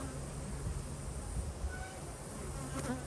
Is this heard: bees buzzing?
yes